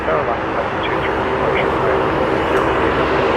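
A WestJet Encore airliner departing Toronto Pearson for Ottawa: a loud, steady engine roar that stays strong and close through the whole stretch.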